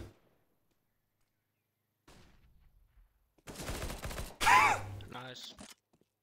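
CS:GO gunfire crackles in a short burst of sharp rapid shots after quiet stretches, followed by a louder impact and brief rattling, with a faint voice near the start.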